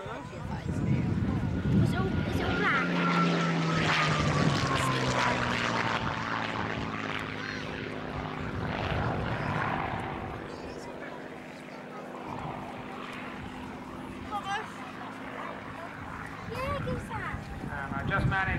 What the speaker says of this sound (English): And once again, the Hawker Hurricane.